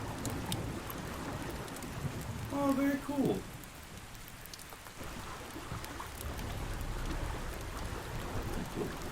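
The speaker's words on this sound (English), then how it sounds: "Besides the rain." Rain falls steadily in the survival game Ark Survival Ascended, a constant hiss with low rumbling thunder underneath, while a player briefly speaks over it.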